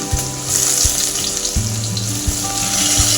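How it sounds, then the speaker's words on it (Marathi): Chopped onion and tomato sauté in hot oil that was tempered with cumin and mustard seeds, a steady close sizzle with a hiss running throughout, along with a faint tonal hum in the room. "मग आपण ते चांगलं परतून घेऊयात"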